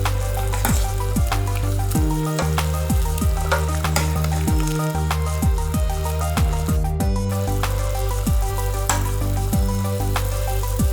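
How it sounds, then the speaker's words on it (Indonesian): Shrimp meatball soup is stirred in a pot on the stove, with a continuous sizzle and bubbling and repeated scraping strokes of the stirring utensil, close and steady. "Lalu aduk kembali berulang-ulang agar bumbu dapat lebih meresap pada bahan-bahan dalam"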